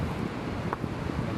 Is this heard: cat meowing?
no